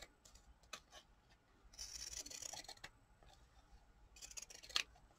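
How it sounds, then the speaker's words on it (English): Scissors trimming paper for a December daily scrapbook album, with crisp snipping cuts in short bursts and a longer run of slicing, close and fairly quiet. "let's go down here and trim it up some"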